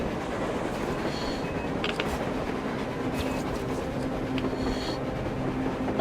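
A train running on the surface in the video game Metro Exodus, a continuous rolling rumble with faint metallic clicks and squeals from the wheels, steady and moderately loud throughout.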